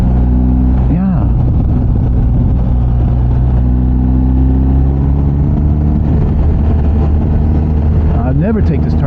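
BMW R1250GS motorcycle on Michelin Road 5 tires, engine droning loud and steady through a turn with wind rush, the rider's voice briefly over it.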